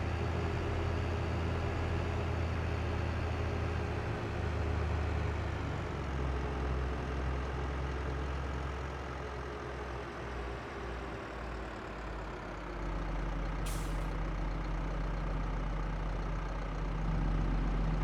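A front-loaded tractor engine in Farming Simulator 22 runs steadily, a low diesel drone that dips in pitch midway and rises again as the machine works, alone without talk.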